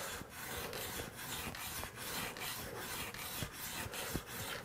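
A marking knife is sharpened on a fine sharpening plate with steady, rhythmic back-and-forth rasping strokes, about ten of them, close and continuous with no talking.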